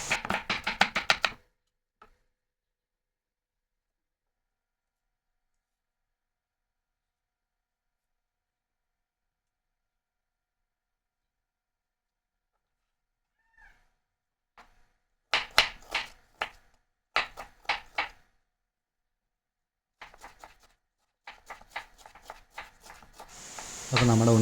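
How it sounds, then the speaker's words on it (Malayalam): A knife chops banana stem finely on a board in rapid bursts of crisp taps, first briefly and then again after a long silence, with faint speech between the bursts. "അതിന് ശേഷം നമുക്ക് ഇതേമാതിരി നൈസായിട്ട് പൊടിയായിട്ട് അരിഞ്ഞെടുക്കാം"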